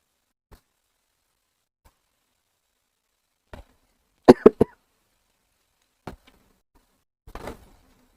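A person coughs repeatedly indoors in a quiet room, with scattered single coughs and a tight cluster of three sharp coughs in the middle, followed by a couple more later.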